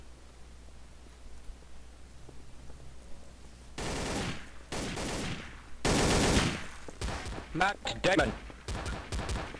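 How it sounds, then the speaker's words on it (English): Gunfire in the Garry's Mod video game, several loud bursts of rapid shots breaking out after a quiet stretch, with people talking between them. "He's shooting at me"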